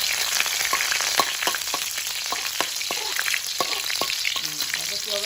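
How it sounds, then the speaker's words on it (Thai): Garlic frying in hot oil in a pan ahead of a stir-fry of straw mushrooms and glass noodles: a loud steady close sizzle with a quick run of sharp clicks and scrapes from a stirring utensil, no voices. "พอมันร้อนแล้วเราก็ใส่กระเทียมเลยค่ะ เราก็ใส่กระเทียมเลยเราก็เจียวกระเทียมก่อน"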